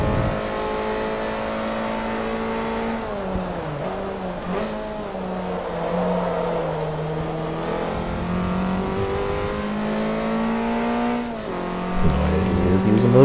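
Race car engine held at full throttle through a chicane in Forza Motorsport 3, a Recaro 200HP car, droning loud and steady with a sustained pitch that dips and rises, while someone talks over it.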